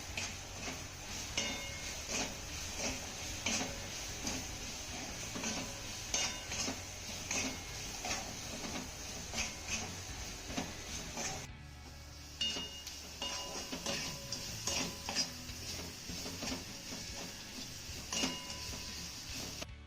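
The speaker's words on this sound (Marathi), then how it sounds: "आता यामध्ये ना आपण मसाला लावलेली कारली घालूया पुरतं मीठ घालूया छान मिक्स करून घ्यायचं आहे" Spiced bitter gourd being stirred into roasted gram flour in a pan, with steady scraping and clinking of a spoon against metal over a faint sizzle, repeated throughout at close range with no talk.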